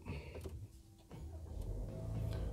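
A faint whirring crank cuts off, then a 2024 Toyota Innova Zenix 2.0 gasoline engine, push-button started, catches and settles into a low steady idle.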